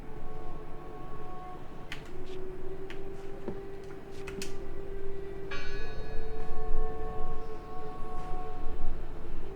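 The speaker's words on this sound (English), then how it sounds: "I heard the bell." A bell in the horror video game Draugen rings over a steady droning ambience, with several sharp metallic strikes scattered across the passage and a brighter ringing cluster near the middle.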